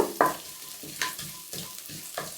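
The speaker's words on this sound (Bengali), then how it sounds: "কড়াইয়ে একটু সাদা তেল ঢেলে দিচ্ছি দিয়ে দিচ্ছি একটু রসুন কুচি আর দেব একটু আদা কুচি এটাকে একটুখানি ভেজে নেব" Chopped garlic and ginger frying in white oil in a wok, with about five rhythmic stirring scrapes and short sizzling bursts every half second, close and moderately loud.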